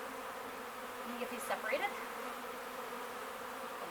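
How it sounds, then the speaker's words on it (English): Honey bees in an open apiary hive hum as a steady, close insect drone, with a brief louder burst of buzzing near the middle while a person speaks over it. "There's tons of bees in here"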